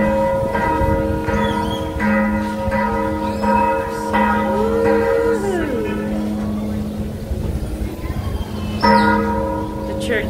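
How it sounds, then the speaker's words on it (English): Church bells ring repeatedly in a steady, overlapping peal with a strong sustained hum in a town centre in Mexico, while a vehicle passes and people talk in the background. "Church bells."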